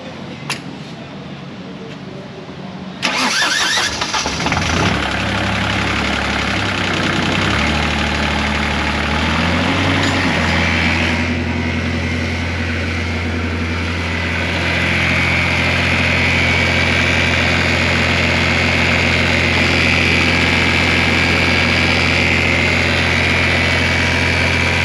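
A CAT diesel engine with freshly replaced fuel injectors cranks and catches, revs unevenly, then settles into a loud, steady idle in a shop, its deep rumble holding close and constant.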